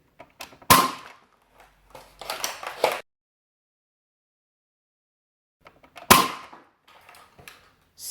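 A 3D-printed Nerf pulse rifle kit built around a Longshot front gun fires standard Elite darts, giving two loud, sharp cracks several seconds apart, each followed by a rattle of priming clacks, with quiet silence between.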